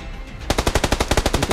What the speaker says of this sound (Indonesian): Itu musuh yang nembak tuh